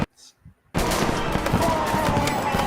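Dense, continuous gunfire erupts after a brief quiet moment, giving a loud, sustained rattle of rapid shots that fills the rest of the clip.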